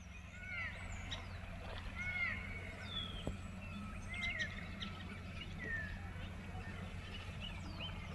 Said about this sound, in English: There's a lot of birds around here.